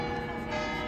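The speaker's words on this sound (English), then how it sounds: "The bells are ringing." A large church tower bell in Pisa rings with a sustained, resonant metallic tone, a brief steady chime with rich overtones and no voices.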